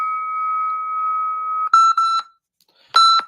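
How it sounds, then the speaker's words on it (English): An electronic boxing round timer beeps loudly: one long sustained tone, then a few short chirps, a pause, and another sharp burst, close and with no talk over it. "I'll put on the round timer."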